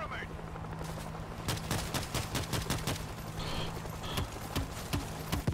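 Rapid gunfire in the zombie shooter World War Z, a run of sharp repeated shots and bursts over constant game noise, with players talking between volleys.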